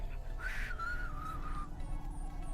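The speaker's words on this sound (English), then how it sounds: "I can't even whistle in tune." Wavering, slightly off-key whistled melody from a character in the video game Cloudpunk, a single sustained tune gliding up and down over a steady low background hum.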